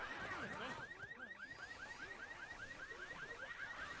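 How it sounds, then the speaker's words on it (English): A car alarm goes off in a Left 4 Dead style video game, its rapid repeating whoops cycling steadily throughout at moderate volume, with game noise underneath. "And they shoot the car alarm."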